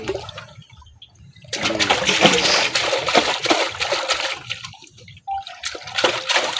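Water poured and splashing into a vessel during fish-keeping work, a loud continuous gushing that starts after a quiet, murmuring stretch and carries on to the end with brief dips.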